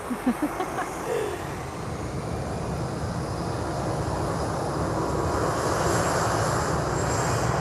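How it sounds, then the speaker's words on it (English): An airplane taking off at Lisbon airport, a steady broad engine roar that builds gradually and holds strong at a distance, with a few faint knocks at the start. "One more takeoff before I go."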